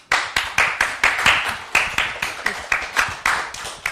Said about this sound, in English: Big round of applause for yourself.